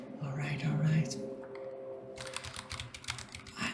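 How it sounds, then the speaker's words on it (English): Steady clacking of a computer keyboard as someone codes in Rust, a quick irregular run of keystrokes close to the mic, with a voice talking over the first part. "I'm not even pressing my keyboard that much."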